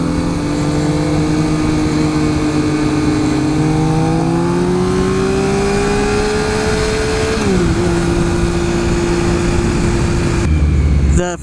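A Triumph Speed Triple motorcycle engine pulling under acceleration, a loud, steady drone that rises gradually in pitch, dips at a gear change, then climbs again with strong wind noise throughout.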